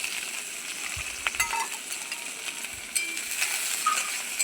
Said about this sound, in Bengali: লাল লাল যতক্ষণ না হবে আমি ভাজতে থাকবো পেঁয়াজগুলোকে